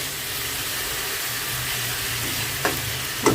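Fish curry with ilish (hilsa) sautéing in a pan, a steady loud sizzle and hiss close by with a couple of brief stirring clatters near the end.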